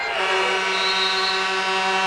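End-of-period buzzer at a 1997 state championship basketball game, a loud sustained electronic drone held for about two seconds over crowd noise.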